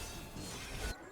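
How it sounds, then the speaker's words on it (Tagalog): Gate smashed in a video game: a dense crashing impact with a whooshing roar building, then cutting off abruptly, faint and brief. "Basag na yung gate ah."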